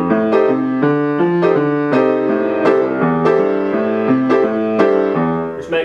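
Boogie woogie piano in a simplified arrangement with a left hand free of octaves, a steady walking bass pattern under bright chord riffs, played continuously and close with no talking.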